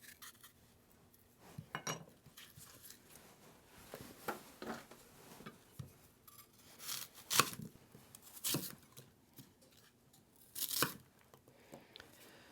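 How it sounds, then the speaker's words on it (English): Apples being pared and diced by hand with a knife for a 1941 Scotch pie recipe, giving scattered scraping cuts and sharp tearing-like slices at irregular intervals, close and fairly quiet, with no talking. "I need to pare and dice up these apples"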